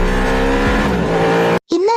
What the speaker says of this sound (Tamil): என்ன கார் சவுண்ட் கேக்குது?